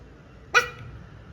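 A single short bark-like yelp from a voice imitating a dog, one brief burst rising out of a quiet room and fading quickly.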